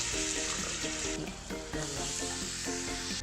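Ginger garlic paste dropped into onions frying for a prawn biryani, giving a bright close sizzle with clattering spoon strokes and stirring knocks in an irregular rhythm, no talking.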